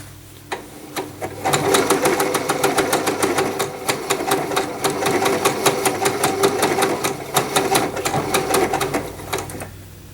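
A Janome sewing machine stitches a blind hem with a blind hem foot, its needle hammering in rapid, close, slightly uneven beats for about eight seconds before slowing to a stop.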